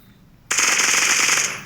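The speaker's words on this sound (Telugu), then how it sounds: "ఫైరింగ్ జరుగుతుంది నా చేతిలో మిషన్ గన్ ఉంది" A machine gun fires one sustained, loud burst of rapid rattling shots in the mobile shooter game Bullet Echo. It starts abruptly after a brief quiet moment.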